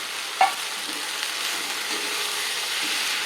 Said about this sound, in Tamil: இப்போதைக்கு நான் இந்த காய்கறிகள்லாம் போடுறேன் தக்காளி வெங்காயத்தோடு சேர்ந்து இந்த காய்கறியும் வதங்கி வரும்